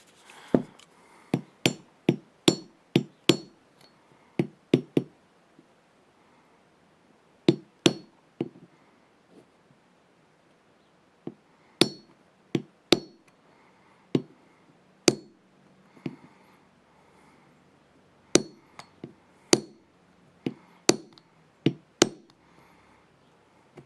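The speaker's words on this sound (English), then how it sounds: "use the non-marring punch and drift out the Glock stock rear sight" Hammer blows on a non-marring punch drift a stock Glock rear sight out of its slide: sharp, close metallic taps in quick bursts of several strikes, separated by short pauses, with no talking.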